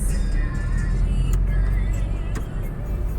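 A 2010 Toyota Hiace van drives along with a steady, loud road and engine rumble, continuous throughout with no clear revving or pass-by.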